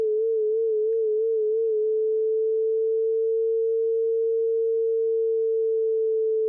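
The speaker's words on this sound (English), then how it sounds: "it just sounds like this weirdly slowly gliding tone." A single pure sine tone produced with MSP frequency-modulation vibrato at 1/8 hertz, steady and loud, wobbling slightly at first and then gliding very slowly in pitch without any other sound.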